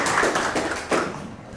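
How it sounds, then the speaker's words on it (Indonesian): A classroom of ninth-grade students claps briefly together, a short patter of hand claps that rises in a few bursts and then fades within a second or two. "Beri tepuk tangan untuk kita semua."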